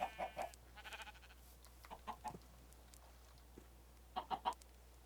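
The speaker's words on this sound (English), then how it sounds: "Come here, chickens." Minecraft chickens cluck in short bursts of three or four notes, soft and fairly close, with brief pauses between calls over a quiet hum.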